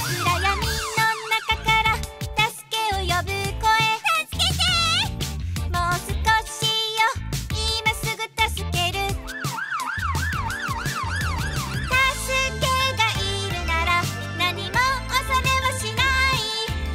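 Loud, busy music from a Japanese children's song about a fire engine plays throughout, with rising and falling wailing tones like a fire engine siren woven into the song.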